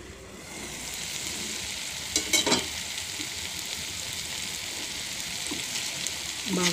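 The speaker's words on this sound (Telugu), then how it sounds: "ఇంకా దగ్గరికి అయ్యేదాకా దాన్ని ఫ్రై చేయాలి, సిమ్లో పెట్టి ఫ్రై చేయాలి." Chilli chicken frying in a pan over a low flame, giving a steady soft sizzle with a few brief clinks of stirring, fairly quiet and uninterrupted.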